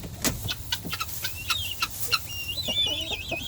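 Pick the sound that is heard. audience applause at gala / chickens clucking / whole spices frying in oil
chickens clucking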